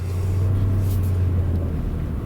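A 1999 Lexus LS400's V8 engine idles in a steady, deep rumble under a low road hum, constant and moderately loud throughout with no revving.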